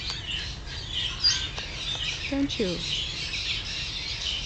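Birds chirp and sing faintly in the open air, with scattered short calls sitting under a person talking close by.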